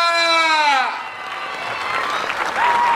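At an outdoor village wrestling ground in Maharashtra, a loud announcer's drawn-out call gives way to a crowd clapping and cheering. The applause swells into a dense, steady roar.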